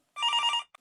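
A single short burst of an electronic telephone ring, a rapid warbling trill lasting about half a second followed by a brief chirp, clear and isolated against silence.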